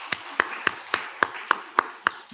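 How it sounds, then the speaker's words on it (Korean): A church congregation at a Sunday morning service gives a short round of clapping for their elders and parents, heard as eight or nine sharp, evenly spaced claps rather than sustained applause. "우리 어른들께 박수 한번 드리겠습니다"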